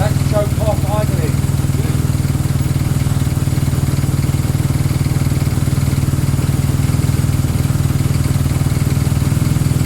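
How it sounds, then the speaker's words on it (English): A Honda CB200 motorcycle engine idles steadily up close with the choke off, a constant loud throb and clatter, with brief talk near the start. "That's choke off idling."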